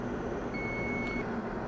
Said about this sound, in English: this evacuation button will stop flashing and you will hear the beep sound